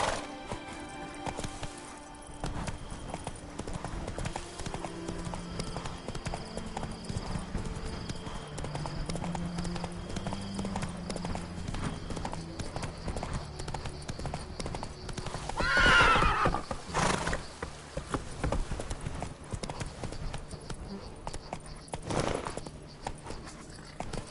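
Horse hooves clip-clop steadily through a PS4 video game ride, with an occasional neigh and a swell of game sounds partway through, heard continuously beneath music and ambience.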